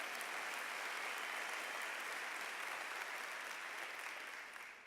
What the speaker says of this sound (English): clap for them all